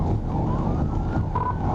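A police car siren wails with rising and falling tones during a high-speed chase on an Arkansas road, steady and fairly close against a low rumble of traffic.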